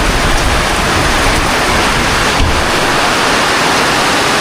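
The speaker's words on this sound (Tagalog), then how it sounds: "Wow, ang lakas ng ulan tol." Heavy rain pours down hard and steady during a flood, a loud, dense, continuous roar of water that stays close and fills the whole space with no voices audible.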